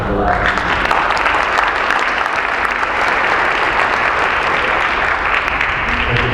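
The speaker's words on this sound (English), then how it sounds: "these folks deserve your applause for what they've done in the last year" A large audience at a community public safety event claps for a district attorney's team, dense, loud and continuous applause filling the whole stretch without a break.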